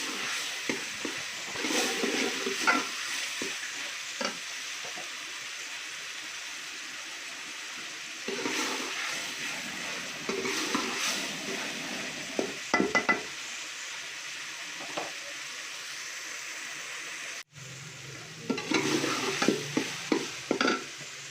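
Masala spices with red chili, salt and turmeric fry and sizzle in a pot while a spoon scrapes and stirs, a steady hiss with irregular clinks throughout, briefly interrupted near the end.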